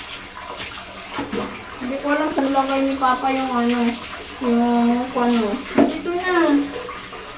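Water poured and splashing while two dogs are bathed, continuous running and sloshing under a child's and an adult's voices talking throughout, close and fairly loud.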